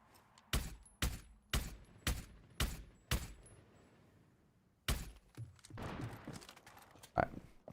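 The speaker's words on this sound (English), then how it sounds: "Firing 1 more mag." A magazine is fired in the video game Rainbow Six Siege: six sharp, evenly spaced shots crack out, a pause follows, then one more shot and a scattered rattle of lighter clatter.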